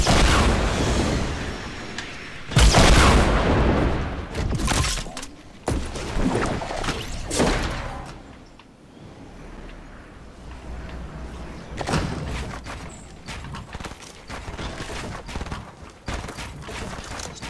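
Heavy video game gunfire erupts in bursts: loud volleys and booming blasts, sustained rattles, then quieter stretches before more shots return near the end.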